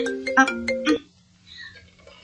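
A cellphone ringtone plays a short bright melodic phrase of several clear tones, close and moderately loud, then cuts off into quiet room background with no talk.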